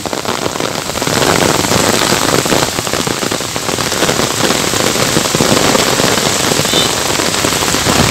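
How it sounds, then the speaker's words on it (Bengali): Heavy downpour during a college football match, a steady dense roar of rain drumming on surfaces, loud and unbroken throughout with no talk. "প্রচণ্ড বৃষ্টিতে খেলা থামিয়ে দিতে বাধ্য হলেন, কারণ আকাশে মেঘ ডাকছে"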